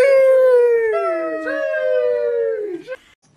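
A dog in the Minecraft video game lets out one long, loud howl that slowly falls in pitch and trails off, heard clearly on its own.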